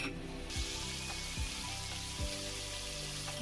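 Spice paste with prawns fries in a pan, a steady soft sizzle and crackle with a few faint knocks from stirring.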